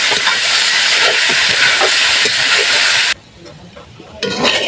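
Bottle gourd greens sizzle while frying in a pan, a loud, steady hiss that cuts off abruptly and then returns more quietly with light crackling.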